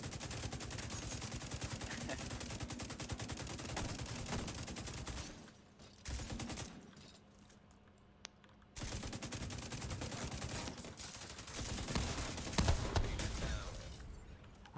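Rapid gunfire in the video game The Division's Dark Zone rattles almost continuously, broken by a brief lull, with booming explosions and sharp shots returning loudly afterward.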